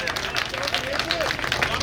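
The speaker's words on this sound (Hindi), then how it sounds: "वह व्यक्तित्व, जोरदार तालियां।" A crowd claps at a memorial and samadhi inauguration ceremony for a Jain monk while a commemorative memento is presented, brisk dense clapping mixed with murmuring voices and nearby chatter.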